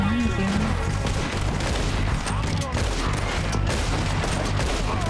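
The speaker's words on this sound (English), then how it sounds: "Who else is shooting at me?" Gunfire in the Western game Red Dead Redemption 2, a loud, sustained fusillade of overlapping shots and booms with hardly a pause, a voice briefly heard under it.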